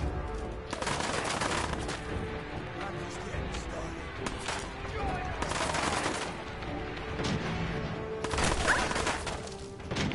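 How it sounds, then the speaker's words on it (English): Repeated gunfire in Fallout 4 on survival mode, bursts and rapid shots crackling through the whole stretch at close to mid range, with a louder volley near the end and a voice talking underneath. "Where are they shooting from?"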